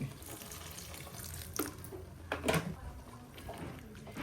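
A kitchen tap runs water during cooking, a quiet steady flow with a few brief splashes and clinks partway through.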